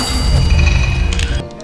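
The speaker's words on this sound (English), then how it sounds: "shoot the bell up here" A bell is shot in the Western-themed video game Showdown Bandit, ringing out as one loud metallic clang that sustains its ring and then cuts off sharply near the end.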